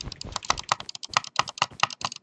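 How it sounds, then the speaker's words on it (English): Butterfly clicking on a computer mouse while playing Minecraft Bedwars produces a rapid, close, irregular burst of sharp plastic clicks that runs continuously and loud, with no talk. "I'm like butterfly clicking."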